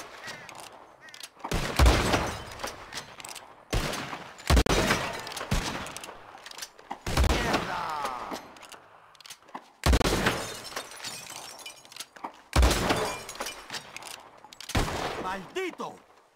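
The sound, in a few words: gunshots shattering bottles in video game Red Dead Redemption 2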